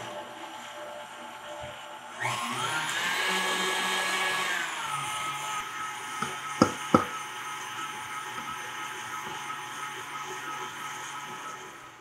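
An electric mixer whirs steadily through cake batter of eggs, vanilla and milk, a loud sustained motor drone that starts abruptly and runs for a couple of seconds before easing, with a few sharp clacks afterward over a quieter kitchen background.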